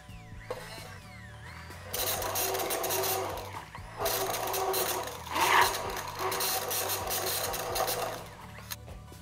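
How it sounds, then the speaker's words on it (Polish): A hand blender whirs through buttermilk mixed with two spoons of rye flour, a steady close motorized buzz running in bursts with brief pauses between. "I pomagam sobie blenderkiem."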